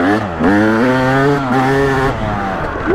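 A Yamaha YZ250 two-stroke dirt bike engine screams at high revs on a trail, its buzzing pitch rising and dipping through quick throttle changes, loud and close throughout.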